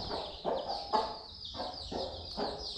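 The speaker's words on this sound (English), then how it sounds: "So we have a lot of chicks." A crowd of chicks peeps continuously in a warm indoor coop, with a steady high chirping chorus and several louder clucks pulsing about every half second, close and clear with no talk.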